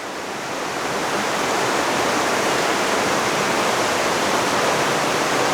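Water rushes hard through a flume built into the side of a cliff, making a loud, steady, full-bodied roar that swells in during the first half second and then holds unbroken.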